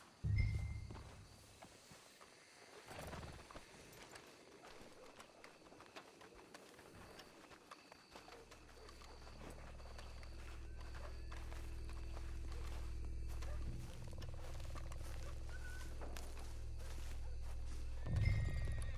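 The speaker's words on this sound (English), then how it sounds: "Let's hitch the horses up ahead." Horses in Red Dead Redemption 2 neigh and walk with soft hoof clops over a busy game ambience, a whinny near the start and steady low rumble building in the second half.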